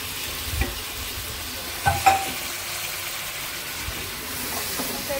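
Taro curry with taro and plantain being sautéed and stirred in a pan, a soft continuous sizzle broken by a few scraping stirs of a spoon against the pan, close and fairly quiet, with no talking.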